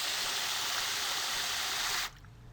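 Tap water runs steadily into a pot in a kitchen as a loud, even hiss, then cuts off abruptly near the end, leaving a quiet room.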